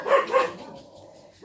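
A dog gives two quick, loud barks close by, followed by a short quiet stretch of room noise.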